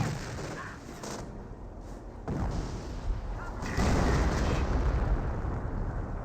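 M2 artillery barrage in Company of Heroes, a continuous rumble of booming explosions with several heavier blasts landing in sequence, growing louder toward the end, no speech heard.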